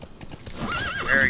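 D-Horse in Metal Gear Solid V: The Phantom Pain clops along briefly, then lets out a loud, close neigh that rises and wavers, with no talking.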